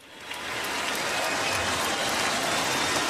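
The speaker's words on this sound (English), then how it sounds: "When you hear the crowd cheering in the background" Stadium crowd at a Cowboys versus Buccaneers football game cheering, a broad continuous roar swelling up in the first half second and holding steady, distant and dense.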